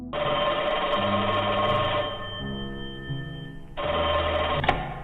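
An old-fashioned telephone bell rings in two long, loud bursts separated by a short pause, with a steady electronic hum underneath.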